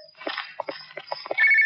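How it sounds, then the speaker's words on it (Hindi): Telephone ringing in a 1997 Hindi comedy film scene, a short electronic ring rising near the end over scattered footsteps and movement noises. "जीजा जी अमेरिका से फोन है आपके लिए"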